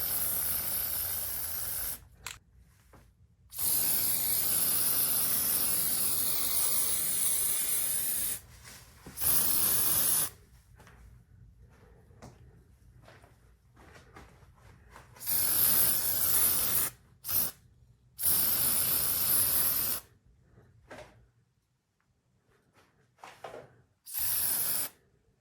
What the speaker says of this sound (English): as soon as I have everything sprayed, sealed up pretty well